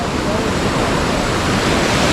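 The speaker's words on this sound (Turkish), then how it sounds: "Çünkü dalgaların boyu bir anda çok yükselebiliyor." Steady, broadband roar of ocean surf breaking on a beach in Bali, loud and continuous with no clear gaps between waves.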